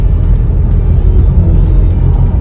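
Inside an Isuzu Mu-X with the 1.9 diesel engine, a deep, steady rumble and whir fills the cabin while the vehicle pulls away from a stop, loud and close with no talking.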